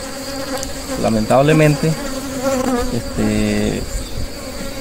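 Honey bees buzz loudly around hive frames being handled, a dense droning hum with rising and falling pitches as individual bees fly close, while someone speaks Spanish over it.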